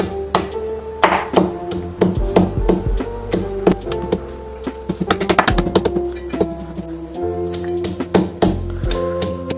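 Ingredients for a grandmother-style kashaya herbal decoction being crushed, with repeated sharp pounding and tapping strikes in irregular bursts, fairly loud and close, over a steady low tonal background.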